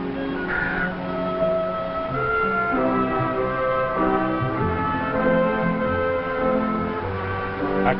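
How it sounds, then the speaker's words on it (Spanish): Crows caw repeatedly in an outdoor Western scene, harsh calls rising over a steady low background with faint other noise, fairly close and clear. "puede que ese cuervo sea lo que necesita"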